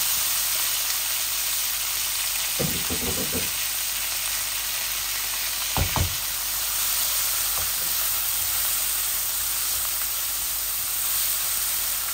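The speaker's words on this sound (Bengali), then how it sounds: "পেঁয়াজগুলো একটু ভাজা ভাজা হোক" Continuous sizzling of onions frying in a pan, with a few short clattering stirs against the steady hiss.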